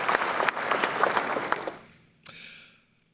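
An audience at an honorific lecture in Ghana gives a round of applause, dense clapping for about two seconds that fades out, followed by a brief renewed spatter of claps.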